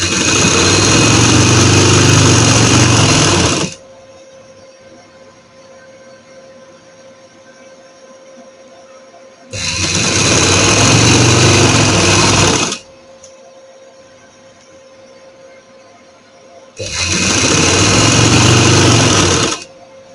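Sewing machine stitching seams on a salwar, running in three loud bursts of steady whirring, each several seconds long, with quiet pauses between them.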